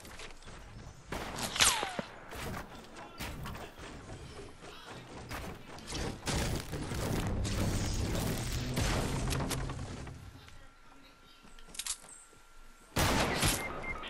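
Gunfire and sniper shots in the video game Fortnite, a busy burst of rapid shots, thuds and mechanical clatter, then a quieter lull before another sharp loud blast near the end.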